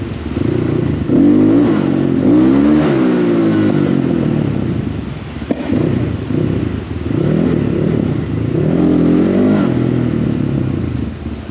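A motorcycle accelerates hard in first gear during a wheelie attempt at a legal practice spot. The engine is loud and close, its revs surging, easing off and surging again, with no talk.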